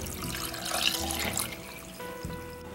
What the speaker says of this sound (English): I'm going to add the brine to the jar